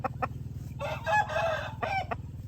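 A young Thai game rooster, 8-9 months old, crows loudly and close by, one drawn-out cock-a-doodle-doo with a few short clucks before and after.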